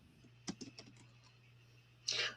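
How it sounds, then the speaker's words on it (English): A few quiet keystrokes tap on a computer keyboard in a short burst, followed by a brief louder rustle, over a faint steady hum. "That's what I was typing."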